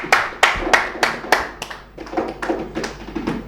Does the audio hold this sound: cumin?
no